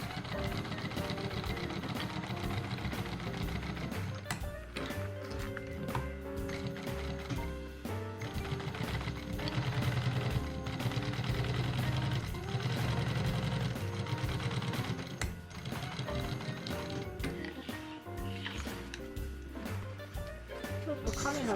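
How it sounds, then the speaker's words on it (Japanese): A sewing machine stitches a handmade waist pouch with a continuous, rapid mechanical clatter of needle and gears running close and steady for about twenty seconds, with a voice speaking over it at times. "貼ったらミシンをかけていきます。"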